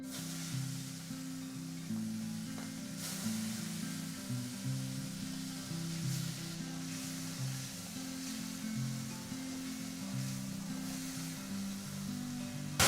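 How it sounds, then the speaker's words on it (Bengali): Prawns fry in hot oil in a pan, a continuous steady sizzle and crackle held at an even level throughout, close and fairly loud, with a low hum running underneath. "চিংড়ি মাছটা ভেজে নেব।"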